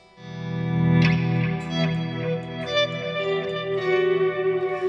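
Electric guitar volume swells made with the guitar's volume knob through delay and reverb: sustained chords fade in and bloom with repeating echoes and a long reverberant wash, alone and fairly loud.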